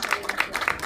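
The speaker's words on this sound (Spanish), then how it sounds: "yo también quiero pedir un aplauso hoy día para ella" A brief burst of audience clapping at an outdoor World Disability Day commemoration in a town plaza, scattered and fairly faint, lasting under a second.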